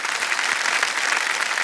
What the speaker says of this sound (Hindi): जोरदार तालियां एक बार फिर बनिए उनके लिए